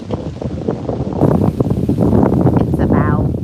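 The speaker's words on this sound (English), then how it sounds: "It is a beautiful, beautiful windy day." Wind gusts across a sunny, warm outdoor garden beside a golden shower tree, a steady broadband rush that swells louder partway through and stays strong to the end.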